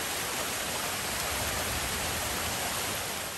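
A brook at Little Hunters Beach in Acadia National Park pours down toward the ocean, giving a steady, dense rush of flowing water that holds even and close throughout, with no voices.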